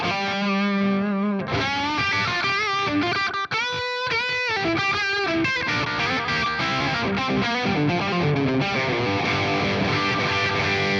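An electric guitar runs through a BOSS DM-2 analog delay pedal set to a single repeat, with distorted chords and riffs each followed by one darker echo, loud and continuous with a brief gap near the middle.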